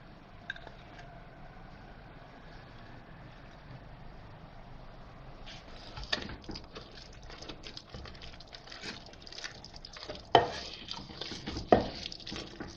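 Sarson ka saag mashed and stirred in a pot with a wooden ghota, quiet soft scraping at first, then a run of louder knocks, clacks and wet scraping strokes, with a couple of sharp knocks near the end.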